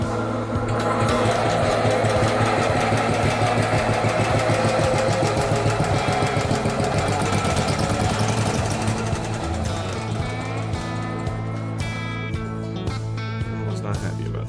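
An old B-10 engine runs roughly on its first start in years, a loud, steady mechanical chugging with knocking and clatter that continues throughout, choked and reluctant to idle cleanly in cold air.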